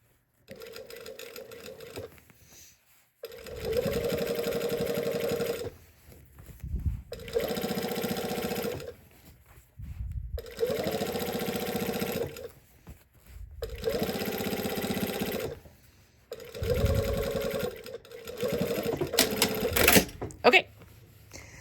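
A hand-cranked sewing machine stitches through a jeans hem in five or six separate runs of rhythmic, whirring clatter, each lasting a couple of seconds with short pauses between, and talk between the bursts.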